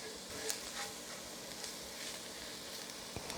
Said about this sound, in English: And you want to see that sizzle on the bottom.